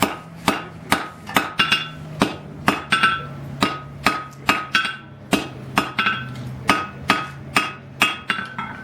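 Steel hammer blows ring out on hot steel being flattened while forging blacksmith tongs, about twenty evenly spaced sharp strikes at a steady rhythm, close and loud, with no talking.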